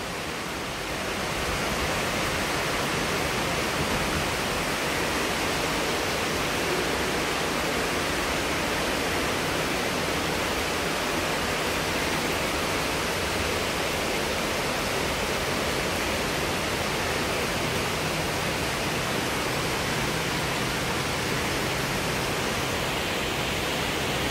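Steady rain pours down on garden flowers and leaves, a dense, even hiss that stays loud and unbroken throughout with no voices.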